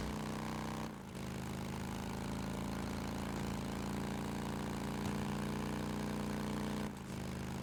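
A steady, low motorcycle engine idle from the video game Days Gone rumbles on continuously, with a brief dip near the start and again near the end.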